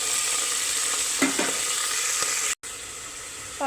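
Spinach fries with mustard seeds and bay leaves in a hot pan, giving a steady, close, even sizzle broken by a few soft stirring scrapes and a brief cut near the end.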